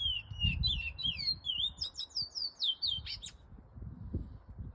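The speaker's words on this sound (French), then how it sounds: "L'oiseau va chanter même la nuit." A bird sings a quick series of sharp, rising chirps and whistles, fairly close, while low rumbling noise fills the background.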